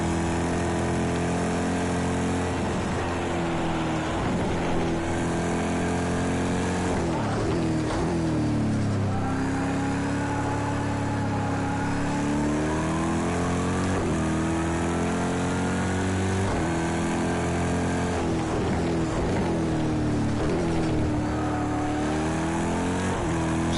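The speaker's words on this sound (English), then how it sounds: "We can just hear the rev of the engine." A GTE race car engine revs hard throughout, rising and falling in pitch through repeated gear shifts and throttle changes, loud and continuous from inside the cockpit.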